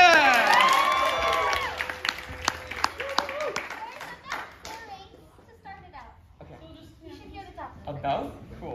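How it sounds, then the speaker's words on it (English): Audience clapping at a solo jazz dance final, steady and dense in the first few seconds, then fading to scattered claps as voices, including a child's, talk and call out over it. "Let's keep clapping, guys."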